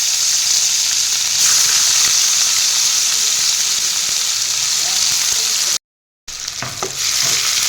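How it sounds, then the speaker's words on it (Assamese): Chopped onions drop into hot oil left from frying fish for a carrot fish curry, giving a loud, steady sizzle and crackle that runs throughout, broken by one brief gap before resuming. "সেই তেলখিনিতে এয়া মই কাটি থোৱা পিঁয়াজখিনি দি দিছোঁ"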